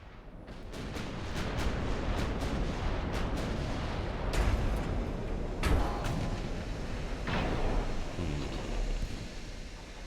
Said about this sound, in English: Okay, that's open fire again.